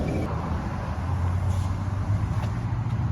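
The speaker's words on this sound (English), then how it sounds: "Hearing that electric motor sound" Electric city bus on a Tallahassee street, its motor giving a steady low hum with a rising whine as it drives by close, amid light traffic noise.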